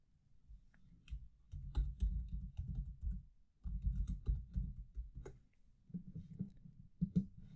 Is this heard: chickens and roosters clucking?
no